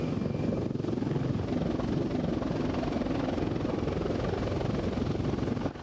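A military helicopter flies overhead, its dense, steady rotor and engine roar holding at a constant level throughout with no pauses.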